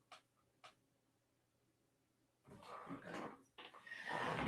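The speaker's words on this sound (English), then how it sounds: "my dog wants me to let him out" A dog whines and scratches to be let outside, two brief faint sounds at first, then louder rustling, shuffling and whimpering noises close by toward the end.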